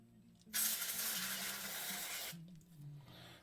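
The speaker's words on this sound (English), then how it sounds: "We'll go ahead and spray it down." Contact cleaner sprays in one continuous loud hiss lasting nearly two seconds onto arcade stick restrictor plates from a Donkey Kong cabinet rebuild, preceded and followed by quieter hum.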